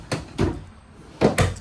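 Cabinet drawers in a 2025 Grand Design Reflection 100 Series 27BH RV are pulled open and pushed shut, giving four short wooden thuds and slides in two quick pairs, close by.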